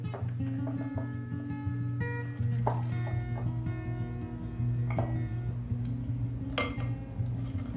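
Eggless, vegan banana bread batter being folded in a bowl, with a few sharp clinks and scrapes of the utensil against the bowl over steady background music.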